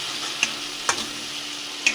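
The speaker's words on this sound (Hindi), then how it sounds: "इन मसालों को प्याज के साथ अच्छे से भून लेंगे।" Onion fried with salt, turmeric, coriander powder and chili in a pan gives a soft, steady sizzle, with three sharp clicks of a spoon stirring against the pan spaced through it, close and with no voices.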